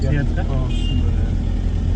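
A car engine hums steadily at a low pitch while the car is driven, under a close voice talking throughout.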